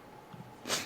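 A single sharp sneeze bursts out near the end, short and fairly loud, after a moment of quiet background.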